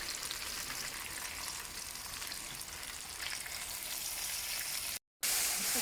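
Ginger garlic paste, chopped tomato and other ingredients frying and being stirred in a pan for king fish curry, giving a soft, even sizzle with a brief dropout near the end.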